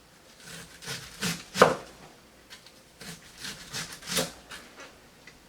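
A knife chops through cabbage by hand into thin slices for sauerkraut, giving a run of close, crisp cutting strokes in two uneven bursts with short pauses between them.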